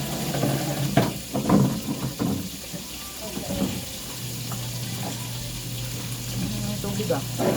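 Water runs from a tap in a sink with a steady, hissing flow, while a voice talks over the first few seconds before the stream continues alone.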